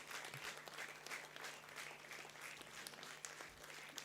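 Sustained applause from a convocation audience as a BSc Honours Computer Security graduate crosses the stage, a dense, steady wash of many hands clapping throughout at moderate distance.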